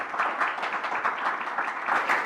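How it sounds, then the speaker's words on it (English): Audience applause fills a hall at the Arab Postal Leaders Forum, a brief, steady burst of many hands clapping at moderate volume. "Let's give them a loud round of applause."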